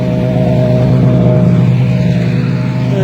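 Five snowmobiles (skidoos) drone steadily as they run across a frozen lake, a loud continuous engine roar with no pauses and no talk.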